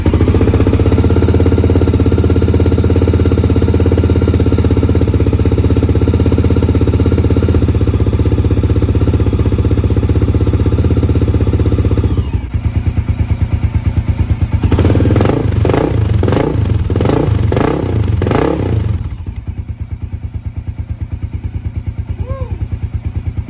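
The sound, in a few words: Honda XR650L motorcycle engine with aftermarket XR's Only exhaust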